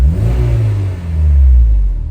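A modified Honda S2000 making 385 horsepower, its engine revving smoothly and quietly in two rising swells, close by with a deep low hum and no talking.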